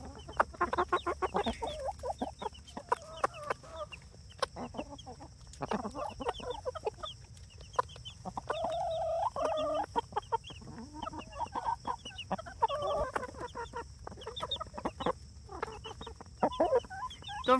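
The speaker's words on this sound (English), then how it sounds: "That little clucking noise that she is making is her way of telling them to come over and look at the food" Broody hen giving soft repeated clucks to call her chicks to food, quiet, close, with scattered peeping and small sharp taps throughout.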